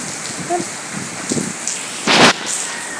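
Steady rain falling outdoors, a continuous soft hiss of drops with one louder rushing burst, moderately close and heard without talking.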